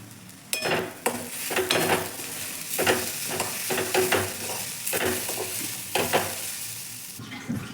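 Spiced pea masala with chilli powder, garam masala, salt and a spoon of gram flour being stirred in a pan, with a steady sizzle and repeated scraping strokes of a spoon against the metal, close and fairly loud.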